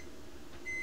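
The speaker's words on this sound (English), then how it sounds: "I am going to microwave water for chocolate milk." A microwave oven heating water hums quietly and steadily, then gives a single clear electronic beep near the end.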